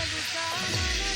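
A spoon stirs ridge gourd curry with onions and spices in a hot pan, giving a soft, continuous sizzle with faint scraping, close but quiet, with no one talking.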